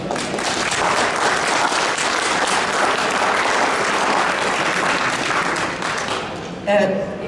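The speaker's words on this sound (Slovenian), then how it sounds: "prosim za en aplavz za njo." An audience at a Ljubljana book presentation on the history of healthcare and medicine claps steadily for about seven seconds, a dense, even applause that fades near the end as a voice briefly cuts in.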